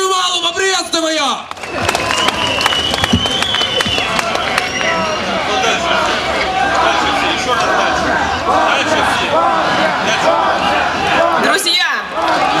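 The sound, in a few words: rally crowd applauding and cheering a speaker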